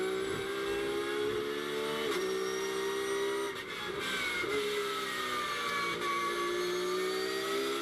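Onboard sound from a GT race car at Watkins Glen as it brakes into a downhill zone: a steady, loud engine drone with shifting tonal whine, heard up close inside the car with no talk.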